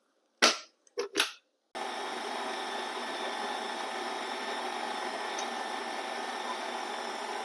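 Butter and sugar for a cake batter are beaten with an electric mixer, which runs as a steady, even whir after a few sharp knocks and clicks at the start.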